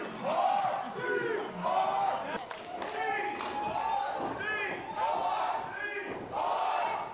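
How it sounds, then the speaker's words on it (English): At a pro wrestling event, the arena crowd chants and cheers in loud, rhythmic waves that repeat every second or so. "You can tell that Cody and Guillermo have the crowd amped up for this matchup here"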